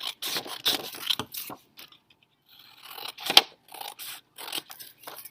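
Scissors snip through paper while a paper lantern is being cut out, a run of crisp close cuts and rustles in uneven bursts with short pauses between.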